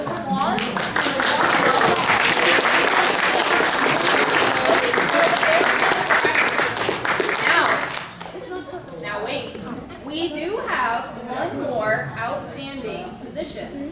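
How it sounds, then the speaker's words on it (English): Dense applause from a large audience at a Toastmasters district leadership training session, loud and sustained for about eight seconds before thinning into scattered claps under a speaking voice. "I would like everyone to give a round of applause"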